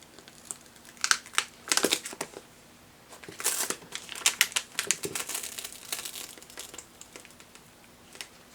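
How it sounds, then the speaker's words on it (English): Dried acrylic paint being peeled off a gessoed canvas, giving scattered crinkly crackles and small tearing bursts, close and fairly quiet, with no talking. "I like to peel it kind of in the direction that it goes"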